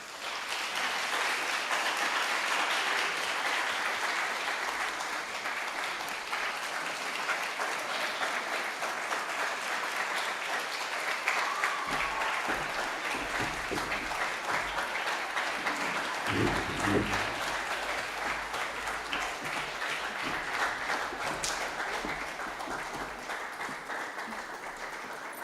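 A school audience gives long, steady applause at the end of a Founder's Day lecture, a broad wash of many hands clapping that holds at an even level for over twenty seconds.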